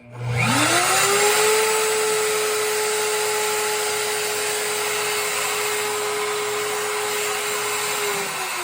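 An overhead router spins up to a loud high whine and holds steady while cutting into wood, with a constant hissing roar that lasts several seconds before starting to wind down.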